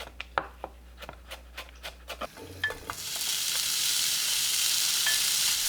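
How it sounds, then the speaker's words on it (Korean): A few sharp taps and clicks come first; then beef hits a frying pan over medium heat and a steady, close stir-fry sizzle takes over and holds. "프라이팬에 소고기 넣고 중불로 볶습니다."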